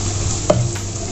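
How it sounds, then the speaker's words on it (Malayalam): Turmeric powder roasts in a pan, with a single brief stirring scrape over a faint hum and a soft sizzle. "നന്നായിട്ടൊന്ന് മഞ്ഞൾപ്പൊടി മൂപ്പിക്കുക"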